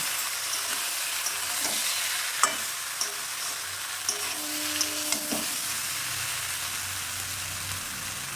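Drumstick (moringa) pieces stirred and frying in a pan for neem shukto, giving a continuous close sizzle broken by a few light scraping and tapping stir knocks, with no voices.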